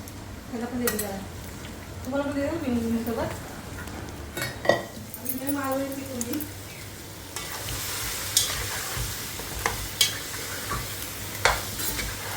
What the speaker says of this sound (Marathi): आता तुम्ही ह्याच्यात फोडणीमध्ये चिकन टाकेन